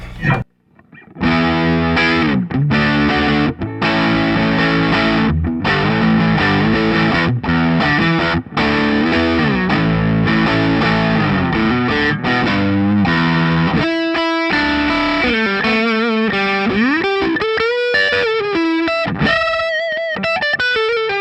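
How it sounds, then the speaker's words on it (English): Heavily distorted electric guitar through the neck humbucker of a Charvel Guthrie Govan signature model, warm and thick, plays a sustained riff of chords and bends, then single-note lines; loud and continuous, no voices. "So that same sound on the neck humbucker."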